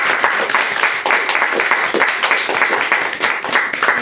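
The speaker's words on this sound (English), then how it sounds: "let's give the three poets a round of applause for a wonderful evening." Steady, dense applause from an audience thanking three poets after an evening poetry reading, loud and sustained throughout with scattered voices underneath.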